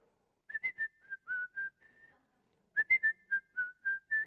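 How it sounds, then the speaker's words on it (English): Whistling in the manner of the Seven Dwarfs at work, a cheerful melodic tune of short, clear notes in two phrases with a brief pause between them, close and alone. "they're moved to express their joy by whistling as they do it"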